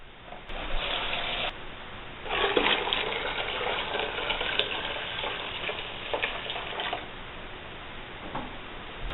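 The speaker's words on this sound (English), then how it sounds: "we're just going to fill up our bucket to about 1 inch from the top with hot water" Hot water gushes from a tap into a bucket for homemade laundry soap, a continuous rushing splash that pauses briefly and resumes, steady and close with no talking.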